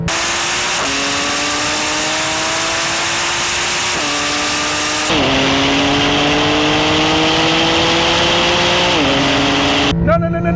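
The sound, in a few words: Porsche 911 Turbo S and GT2RS accelerating in race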